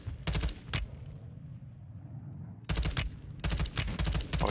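Video game gunfire in two clusters: a couple of rapid loud bursts near the start, a quieter gap, then several close, sharp volleys of fast shots toward the end, with no talking.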